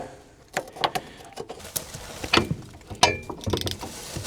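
Ratchet wrench with a 5/8 socket turning a fastener under a 1979 Ford Mustang Ghia abandoned for over 20 years, giving short bursts of metallic clicking in irregular clusters, fairly close, with no talk.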